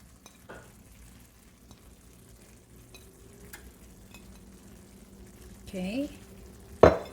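Fresh shrimp hit a hot paella pan for a seafood paella, bursting into a sharp sizzle near the end after several seconds of quiet kitchen stirring and faint clinks.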